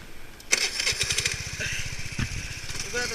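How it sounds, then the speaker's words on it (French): A Honda NSC 50R scooter engine cranks and catches, then settles into a rapid, steady putter at close range, staying fairly quiet; people talk briefly around it. "c'est un scooter quand même assez silencieux"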